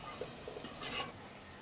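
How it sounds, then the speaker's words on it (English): Onions frying for Indonesian nasi goreng, a soft continuous sizzle in a pan with a light utensil stirring scrape, close but quiet, no talking. "Going to stir this, and we're going to let those onions cook for about a minute."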